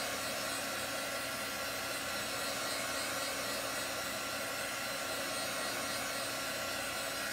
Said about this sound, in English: I have a heat tool, and we're just gonna use that to give this a quick dry so we can hurry the process along.